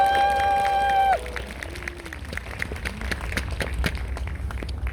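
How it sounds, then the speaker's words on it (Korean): Audience applause in a hall after a live song by a singer-songwriter, scattered sustained clapping that follows a held sung note at the start, with faint voices mixed in. "다시 한번 감사와 응원의 박수 부탁드립니다."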